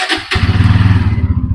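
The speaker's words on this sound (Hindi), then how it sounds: "N160 साउंड सुनंतु पूरा यूनिक साउंड आ रहा N सीरीज इंजन" A 2023 Bajaj Pulsar N160 motorcycle in well-kept condition fires up and settles into a loud, close idle, its exhaust pulsing in a steady, rapid thump.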